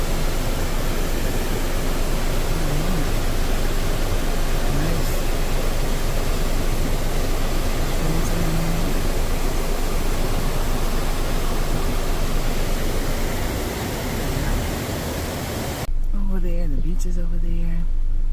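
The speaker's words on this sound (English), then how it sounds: "Coming up on a waterfall" A waterfall in a Puerto Rico rain forest pours as a dense, steady roar of falling water that fills the scene close by and runs unbroken for most of the stretch, briefly cutting out near the end.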